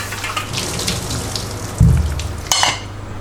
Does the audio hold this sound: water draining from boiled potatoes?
yes